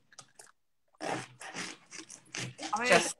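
Crisp radicchio leaves crunch and snap in several close, loud bursts after a brief quiet pause.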